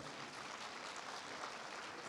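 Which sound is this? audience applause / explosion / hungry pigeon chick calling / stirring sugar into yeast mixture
audience applause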